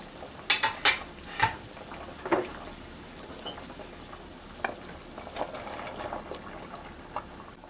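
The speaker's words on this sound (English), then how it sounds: "uncover the pot and add the long green beans" Long green beans go into a simmering pot of pork sinigang, a tamarind soup. A few splashy clatters and knocks come in the first seconds, then softer bubbling and occasional stirring sounds follow at a moderate level.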